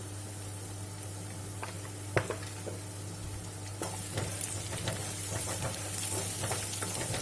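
Onions frying with salt in a pan, a steady close sizzle with occasional stirring clicks and scrapes, no talking.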